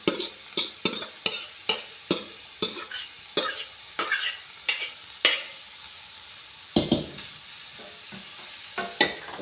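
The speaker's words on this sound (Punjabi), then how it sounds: "ਹੁਣ ਕਰ ਦਿੰਨੇ ਐਡ ਇਹਦੇ ਵਿੱਚ ਗੋਭੀ ਆਲੂ ਬੋਇਲ ਕੀਤੇ ਹੋਏ" Boiled cauliflower and potatoes being stirred into spices in a pan for a Punjabi gobhi sabzi, a run of rhythmic scraping spoon strokes with a light sizzle, close and clear with no talk.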